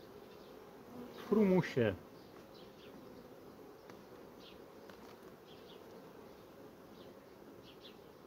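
A honeybee swarm inside a beehive gives a steady, low, close buzzing hum throughout, and someone speaks briefly over it near the start.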